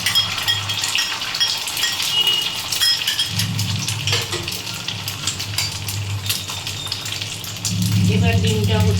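Beaten egg for an egg roll hits a hot pan (kadai) and sizzles steadily up close, with occasional clinks of a utensil and a fresh burst of frying near the end.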